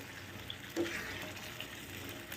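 Boiled peas with paneer, garlic, coriander and spices are sautéed in a pan over medium flame, giving a brief, low, steady sizzle with a soft stirring scrape.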